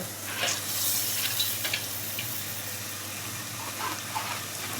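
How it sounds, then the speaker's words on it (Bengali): Red lentils sizzle in a hot frying pan over spiced masala while a spoon scrapes and stirs, with a steady frying hiss and a few louder scraping bursts near the start. "এখন দিয়ে দিব বলেন তো মসুরির ডাল"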